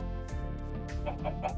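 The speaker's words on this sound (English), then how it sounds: "Okay, here, chicken over here." A chicken in the video game Minecraft gives a few short clucks over steady tonal game background sound.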